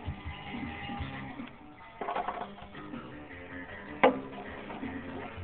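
Ratcheting clicks from a 13/16 spark plug socket turning on a push mower's spark plug, a quiet mechanical ticking with one sharper metallic snap near the end.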